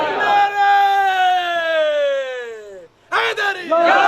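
A large gathering at a Mehfil-e-Milad religious sermon erupts in a loud unison chant answering a religious slogan, one long sustained shout from many voices that fades out, then a second burst of crowd voices rising again.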